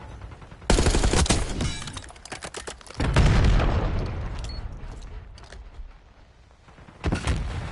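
Rapid bursts of automatic gunfire and explosions in the video game Call of Duty: Black Ops 6, loud dense volleys with a heavy boom, a quieter lull, then another burst.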